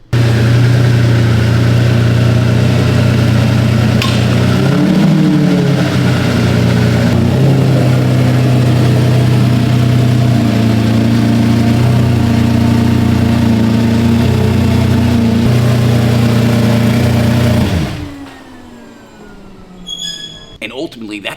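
A damaged Lamborghini's engine runs steadily and loud up close, a droning hum with a brief swell around the middle, before it shuts off near the end, leaving faint clicks and knocks.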